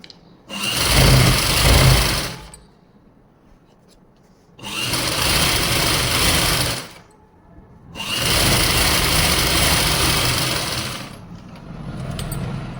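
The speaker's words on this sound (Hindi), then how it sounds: "फिर इस पर हम ऐसे सिलाई लगा देंगे फोम पर, क्योंकि ये फिर यहाँ से हिले नहीं गी बिल्कुल भी" A sewing machine stitches fabric onto foam for a salwar in three long, loud bursts of rapid whirring, each a few seconds long and separated by short pauses.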